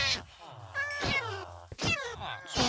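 A Minecraft cat meows several times in quick succession, drawn-out tonal mews close by and fairly loud, with some overlapping game sound.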